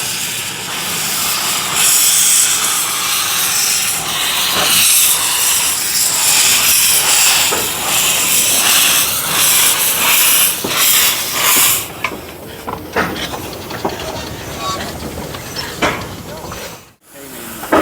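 A 1923 Swindon-built steam locomotive on the Vale of Rheidol Railway in Aberystwyth vents steam in a loud, sustained hiss with rhythmic pulses, later giving way to quieter clanks and bumps as people talk nearby.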